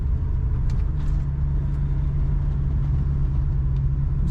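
A 1966 Ford Mustang convertible with an automatic transmission cruising on a highway, its stock engine giving a steady, moderate low rumble under continuous road noise, with no talking.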